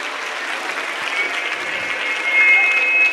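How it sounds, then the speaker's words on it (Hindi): Steady audience applause at a large Sanatan religious gathering, a dense wash of clapping that swells slightly toward the end, continuous for a few seconds. "चैतन्य जी महाराज भी हमारे बीच में पधारे हैं, उनका भी स्वागत करेंगे एक बार जोरदार तालियों से।"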